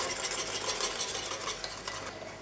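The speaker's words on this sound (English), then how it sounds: "So let's mix this well." A spoon works through a bowl of meatloaf mixture seasoned with Worcestershire sauce, making a steady, close, wet squelching and scraping with no voices.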